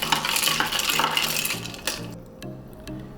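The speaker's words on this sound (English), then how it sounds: "And then just stir gently." A spoon stirs a sweet milky soda drink with ice in a glass, producing a close series of bright clinks and taps against the glass over about three seconds, with a fizzy wash fading out.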